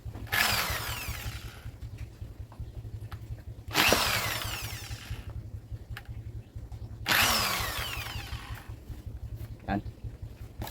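A power drill tightens a screw on an e-bike motor whose carbon-brush wiring was burnt by grease contamination, running in three close, loud bursts of a few seconds each over a steady low electrical hum.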